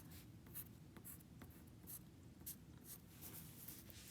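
A pencil scratches across paper in quiet, rhythmic strokes while drawing a sun in a pictograph-style sketch, close and faint with no talking.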